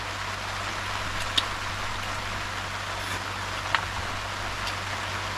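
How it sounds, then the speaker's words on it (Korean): Steady rain at a campsite in a cemetery, heard from a camper van, with a broad constant hiss, a low hum underneath and a couple of sharp drips or ticks standing out. "빗소리 좋아."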